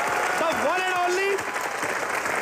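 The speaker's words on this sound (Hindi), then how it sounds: "प्रभु देवा के लिए जोरदार तालियां" A studio audience on a Hindi comedy show applauds a guest's entrance, with steady clapping through the moment while a voice talks and music sounds over it.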